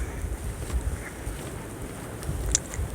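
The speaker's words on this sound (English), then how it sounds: "It's windy." Strong blizzard wind roars and buffets the microphone in steady gusts outdoors on a snowy day, loud and continuous with no talking.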